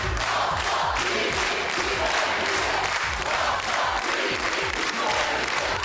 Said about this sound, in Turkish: Evet, alkışlarınızla Kırmızı Oda'ya uğurluyoruz kendilerini.